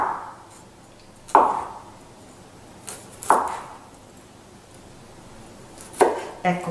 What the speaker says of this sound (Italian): Prepariamo l'aglio, se riusciamo a tagliarlo molto sottile.